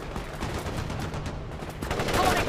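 Bursts of rapid gunfire from the World in Conflict video game, in an insurgent battle, crackle continuously at moderate loudness, with a slight swell toward the end.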